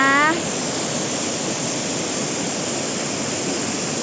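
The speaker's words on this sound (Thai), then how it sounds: "วันนี้พาเพื่อนๆมาเที่ยวน้ำตกจ้ามาเที่ยวน้ำตกจ้า" A waterfall pours down from the mountain, a constant broad rushing roar close by, with a short burst of a voice at the very start before the water noise carries on alone.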